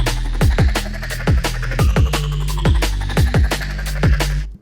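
A gritty granular drum-and-bass preset called Crash the Casino from the Current synth: a heavy, sustained low bass drone with regular punchy hits and downward-sweeping drum accents in a steady groove, loud and close.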